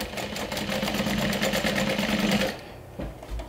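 A sewing machine stitches down elastic on a lining in a rapid, steady whirring run for about two and a half seconds, then stops, leaving a quiet room with a faint knock.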